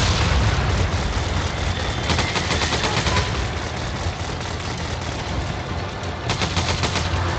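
Turret gunfire in Resident Evil 5, continuous loud rapid bursts of automatic fire with dense rattling volleys that ease slightly midway and pick up again near the end.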